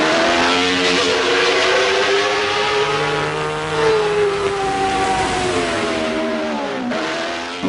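A pack of 250cc Grand Prix racing motorcycles accelerates hard off the start, engines screaming loud and steady with rising, shifting pitches and no pauses.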